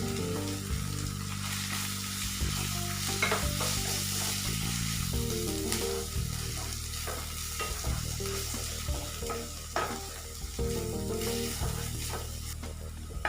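Two eggs fry with masala in a pan, a continuous close sizzle broken by repeated scraping and stirring strokes from a utensil, with no voices.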